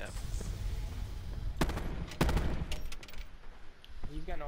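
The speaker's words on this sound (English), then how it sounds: "I'm gonna do a blind shot in the smoke just to fucking see." Blind gunshots fired into smoke in a shooter game, a quick burst of several sharp, close cracks in the middle, with a voice talking near the end.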